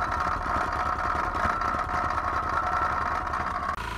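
A small Lombardini LDA 520 diesel engine driving an old water pump runs steadily nearby, slightly smoky, a rough, even chugging idle with a continuous low rumble.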